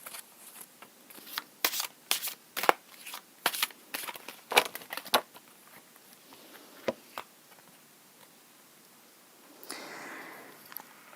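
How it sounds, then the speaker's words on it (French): Large cards being drawn and handled, a run of sharp papery flicks and slaps, several in quick bursts then sparser, close and clear with no talking, ending in a soft rustling shuffle. "Je vais tirer à présent deux autres grandes cartes."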